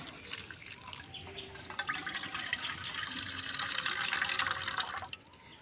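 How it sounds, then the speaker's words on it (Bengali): Thin flattened rice (chira) being rinsed in water, heard as close splashing and swishing that builds gradually, then stops near the end. "এইবারে দেখুন এই চিড়েটাকে আমি ভালো করে 3 থেকে 4 বার মতো ধুয়ে নেব।"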